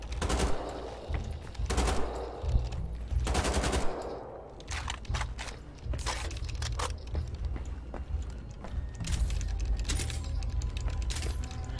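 Sustained gunfire from a weapon in Wolfenstein: The Old Blood, dense rapid bursts of shots rattling continuously at close range with loud clustered blasts, no talking over it.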